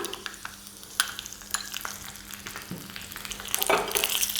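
Four dry red chillies frying in oil in a pan on low heat, giving a steady soft sizzle with occasional stirring scrapes and clinks, close and continuous with no talking.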